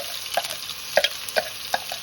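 Onions that were chopped and blended are sautéed in oil in a pan while cooking nasi lemak, a steady close sizzle broken by a few scattered clinks and stirring taps.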